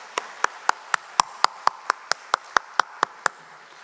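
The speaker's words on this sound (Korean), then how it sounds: "우리 다시 한번 박수 주시기 바랍니다" A church congregation claps in a steady, even rhythm, about thirteen sharp, distinct claps in under four seconds, fairly loud and close with no talking over them.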